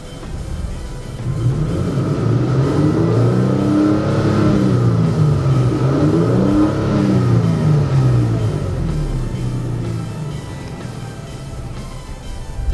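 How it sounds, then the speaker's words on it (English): A 2016 Toyota Tacoma engine fitted with a Tundra throttle body and 76mm adapter plate runs steadily for the whole stretch, a loud, even rumble with slowly rising and falling tones close to the microphone. "Here it is, idling perfectly fine on the Tundra throttle body"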